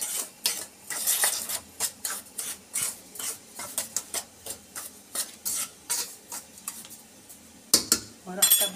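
A spoon scrapes and clinks rhythmically around a bowl, stirring thick revani cake batter of flour and baking powder in quick repeated strokes, close up and steady.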